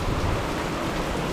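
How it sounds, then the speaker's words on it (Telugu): Heavy monsoon rain pouring in the Nallamala forest near Srisailam, a dense, even roar of rainfall heard alone and up close for a brief moment. "శ్రీశైలం నల్లమల్ల అడవుల్లో చూడండి వర్షం ఏ రేంజ్లో పడతా ఉందో."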